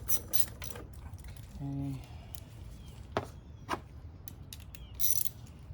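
A ratchet wrench turning a 7mm socket on bolts of a BMW X3 35i F25 with an N55 engine during a downpipe install, with a few brief clicking bursts and clanks close up, and a short spoken word.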